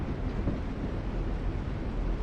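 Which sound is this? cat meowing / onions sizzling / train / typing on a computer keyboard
train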